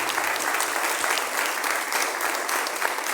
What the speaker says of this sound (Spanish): el maestro Nayib Camacho, por favor, un aplauso de verdad